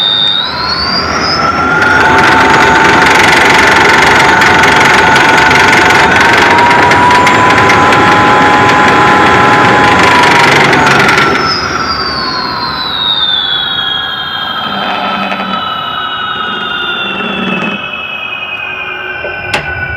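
A 16-pole electric motor runs with its controller, giving a loud whine whose tones hold steady and then glide downward as the speed changes, with a steady hum underneath.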